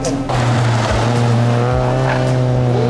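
A race car engine roars loudly and steadily up close during an endurance race, with a brief squeal of tires as the car slides through a corner.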